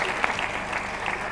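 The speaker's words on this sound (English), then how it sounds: "A round of applause." Short burst of audience applause at a university international week opening ceremony, a steady wash of many hands clapping throughout.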